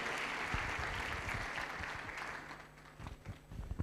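A crowd at a youth empowerment week event breaks into applause for a guest, with dense, steady clapping at close range that carries on through the whole stretch and builds into a few louder claps near the end.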